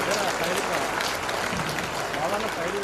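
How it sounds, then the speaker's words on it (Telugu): Students in a school gathering clap hard and continuously, a thick wash of applause with a voice speaking faintly underneath throughout. "ప్రతి అబ్బాయి గట్టిగా క్లాప్స్ కొట్టాల్సింది,"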